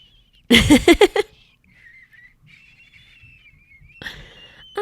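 A human voice mimics a seagull with a quick series of squawking cries, followed by a thin, wavering whistle-like tone and a short burst of noise.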